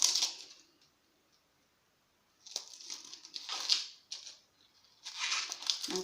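Dry onion skin peeled by hand after the onion is halved: soft crinkling and papery tearing in short bursts separated by silent pauses, close and quiet.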